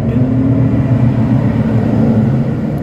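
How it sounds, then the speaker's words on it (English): A loud truck drives past outside a workplace, giving a steady, heavy low rumble that stays close and loud throughout, with no talk. "I'm about to have a really loud truck going by"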